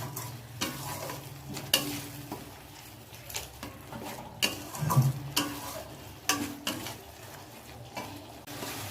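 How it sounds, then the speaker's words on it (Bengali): Spice paste for a Bengali fish curry (fesa fish jhal) being stir-fried and scraped in a pan, with soft sizzling and repeated stirring scrapes and occasional clinks of utensil on metal, steady and close throughout. "ভালো মতো মশলাটাকে কষাবো।"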